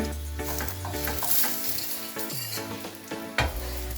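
A potato-stuffed paratha sizzles steadily in hot oil, a loud continuous crackle with an occasional utensil scrape.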